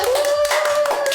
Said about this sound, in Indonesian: Beri tepuk tangan guys